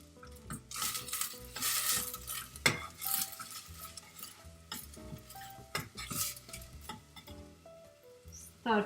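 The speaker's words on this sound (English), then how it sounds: "Start sauteing." Onions sauteing in a pan of heated olive oil, with stirring scrapes and utensil clinks against the pan over a steady background of music-like tones; no one speaks.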